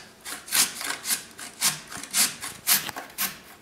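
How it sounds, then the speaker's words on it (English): A carrot is grated lengthwise on a grater for coleslaw, giving a rhythmic series of about eight rasping strokes, each a short scraping burst at a steady, brisk pace, close and moderately loud. "cut the carrot into a longer piece, say about a 2-inch piece, and grate it lengthwise"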